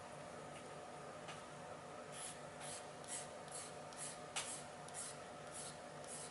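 Wet sanding a resin model kit part by hand, soft quiet rasping strokes repeating in a loose rhythm close by, with faint scratchy rubbing throughout and no talking.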